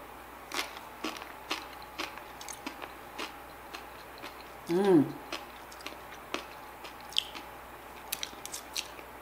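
Someone chews a spoonful of Instant Pot egg roll soup with a crumbled crunchy topping: soft, close, intermittent wet clicks and crunches, with a brief hummed murmur partway through.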